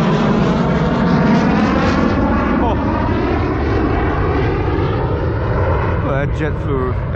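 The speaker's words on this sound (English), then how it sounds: "F-22 flew right over me" An F-22 fighter jet flies overhead above a fishing kayak on open water. Its broad, loud roar fills the whole stretch, mixed with heavy wind buffeting.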